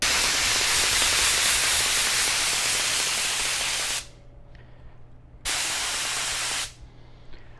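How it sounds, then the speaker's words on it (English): Weldwood contact cement adhesive hisses from a spray gun in a long continuous burst, stops, then sprays again in a shorter burst, loud and close. "I'll spray this piece, let it tack up. I'll spray the other piece, let it tack up."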